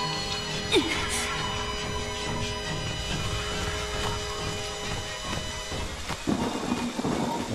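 A thunderstorm in Friday the 13th: The Game on Xbox One, with a constant hiss of rain and deep rolling rumbles of thunder swelling at moments, steady and enveloping.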